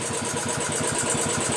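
Royal Enfield Classic 500 motorcycle idling with a Powertronic ECU fitted, a steady loud thumping single-cylinder beat close by, with no voices over it.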